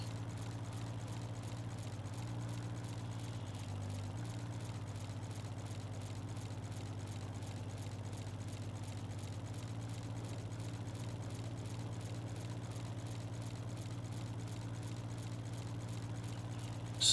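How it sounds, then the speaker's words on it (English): Farm tractor engine running steadily while mowing grass around a hay loft, a continuous low droning rumble with a slight dip in pitch near the start, no voices. "This tractor turns so easy on a dime, it's not even funny."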